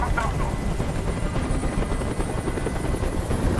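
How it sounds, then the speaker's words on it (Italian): A helicopter in the video game Detroit: Become Human hovers nearby, its rotor producing a constant loud, dense whirring roar that fills the whole stretch without a break. "Questo rumore mi sta facendo impazzire. Digni di mandare via quell'elicottero!"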